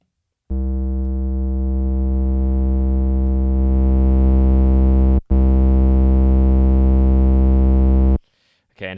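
A sustained buzzy polysynth tone through a distortion effect, rich in harmonics, holds steadily for several seconds with a brief dropout, then cuts off abruptly.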